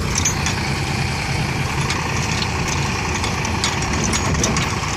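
A loaded tractor grinds through a waterlogged, badly rutted farm track, its engine a steady, close, heavy rumble throughout with faint splashy clatter and no speech.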